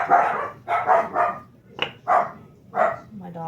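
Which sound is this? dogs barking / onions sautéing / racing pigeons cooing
dogs barking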